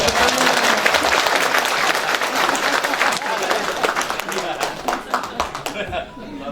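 Sustained audience applause at a nurses' association board inauguration ceremony, dense steady clapping from a large indoor crowd that thins into scattered claps toward the end.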